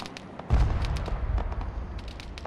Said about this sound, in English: Bombs dropped right there.